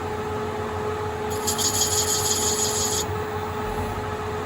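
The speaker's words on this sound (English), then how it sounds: "CNC run. Go. Here we go. Making chips." A CNC lathe single-point threads a thin-wall plumbing drain tube, the tool's thin rasping cut running about two seconds over a steady machine hum.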